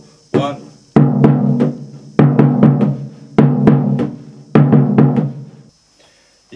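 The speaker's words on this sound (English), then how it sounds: "Slightly more variation in the high Surdo part." High surdo drum playing a Rio-style samba pattern, loud, close booming strokes grouped in repeating bursts with quick triplet figures, played alone with a brief pause near the end.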